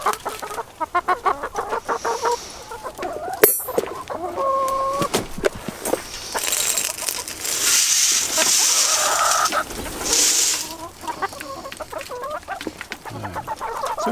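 Backyard hens clucking in a wire cage coop at afternoon feeding time, several birds near and loud with overlapping calls and squawks, rising in a busy burst midway.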